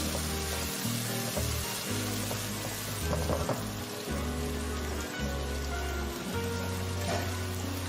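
Ground spice paste sizzles in a hot pan while being stirred, a steady close crackling hiss running throughout over a low rhythmic background beat.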